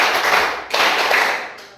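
A classroom of students claps together in a counted rhythm during an economics lesson, a few sharp group claps, each with a brief reverberant tail, fairly close and loud.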